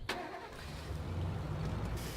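A truck engine in a zombie survival game cranks and catches after a sharp click, then settles into a steady low rumble, fairly quiet and heard alone.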